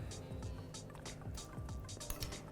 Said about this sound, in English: I'm going to just add in 2 tablespoons of water now